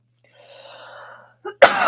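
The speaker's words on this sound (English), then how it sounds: "so I'm going to blow my nose real quick" Nose blowing, heard up close: a short nasal rush, a brief pause and sniff, then a loud, breathy blast into a tissue that carries on to the end.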